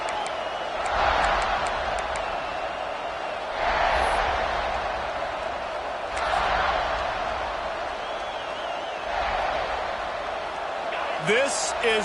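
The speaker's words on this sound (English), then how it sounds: "This crowd ready to make its presence known." A packed stadium crowd at an American football game sends up a sustained roar that swells and fades in several waves, with a commentator's voice running underneath.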